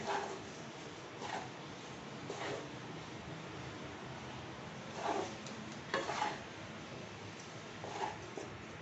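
Besan (gram flour) being roasted for besan ladoo and stirred in a pan, a soft continuous scraping with a few louder scrapes of the spoon at irregular intervals, close and moderately quiet, no voices.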